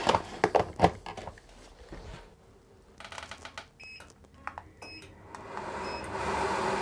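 A workshop air filter unit switches on after a few clicks and electronic beeps, its fan whirring up into a steady airy hum that grows toward the end, close by with no speech.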